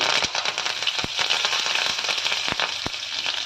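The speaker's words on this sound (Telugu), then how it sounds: "పోపు ఈ విధంగా చక్కగా మనకు చిటపల్లాడుతుంది కదా" Dense crackling and spattering of tempering spices, curry leaves and dried red chillies popping in hot oil, with sharp pops scattered irregularly through a continuous sizzle.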